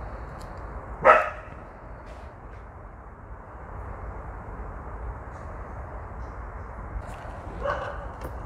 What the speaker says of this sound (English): My dog is out here barking.